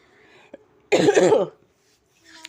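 A single harsh, wet cough burst of about half a second, loud and close, between quieter stretches with a faint click before it.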